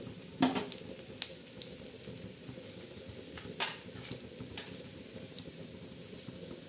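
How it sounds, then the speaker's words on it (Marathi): Onion roasting in a pan for black masala, a steady low sizzle running throughout with a few brief clinks and scrapes rising above it, no talking. "हे बघा, आता आपला हा कांदा भाजतोय."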